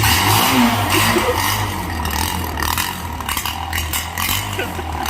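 An old LML Freedom motorcycle engine idles steadily after a cold start, with a continuous low rumble and slight rough, clattery edges, loud and close.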